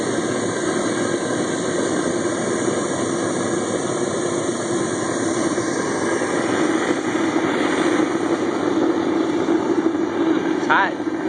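An air blower feeding a homemade all-fuel foundry burner sends a steady, loud roaring whoosh with constant tones that persist through the whole stretch, while a person talks over it.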